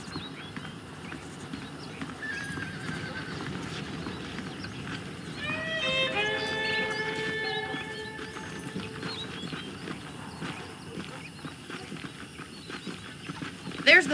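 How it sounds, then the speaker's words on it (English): Horse hooves clip-clop and a horse whinnies in the Red Dead Redemption video game, the steady hoofbeats running throughout with a clear neigh midway, under a voice talking over the game's background sound. "The horses are saddled up over here."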